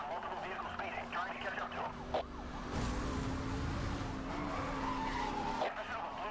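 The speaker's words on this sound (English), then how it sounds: "Oh, that was way too much of a parking brake." Car skidding under a hard parking-brake turn in the racing game Need for Speed: Hot Pursuit, a long tyre screech over engine roar and a wailing police siren, with someone talking over the game sounds.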